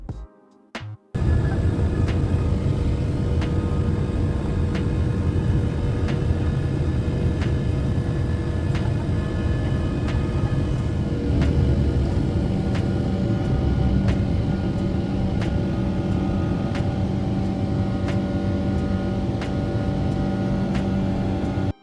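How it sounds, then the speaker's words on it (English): A Cathay Pacific Boeing 777-300 on its takeoff roll: after a brief quiet moment, a loud, sustained engine roar and rumble builds in, with faint regular thumps from the runway running beneath it. "The plane took off safely."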